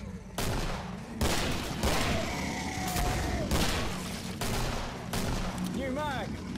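A .50 cal machine gun in the Killing Floor video game fires several loud, dense bursts separated by short gaps, with a player voice talking faintly between the shots.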